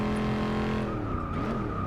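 A Dodge Charger Hellcat's supercharged Hemi V8 in the Forza 6 racing game revs hard and loud under acceleration, a steady rising engine drone with a brief tire squeal, no voices over it.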